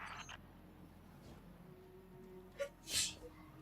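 A single sneeze bursts out near the end, a sharp broadband puff standing out against a quiet game soundtrack with faint low ambience.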